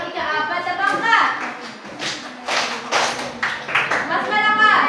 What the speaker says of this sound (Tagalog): Bigyan ng tatlong palakpak ang ikaapat na pangkat.